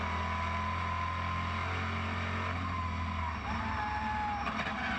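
Race cars roar down the Brands Hatch straight during an Elite 1 Saturday race at the SpeedFest, one car overtaking another; a loud, steady engine drone with a pitch shift partway through as cars pass close by.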